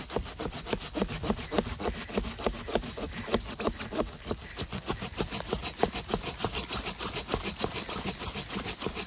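A Silky PocketBoy folding pocket saw working through a hardwood branch, with fast, regular push-pull strokes of close, loud rasping wood cutting that keep going for the whole stretch without speech.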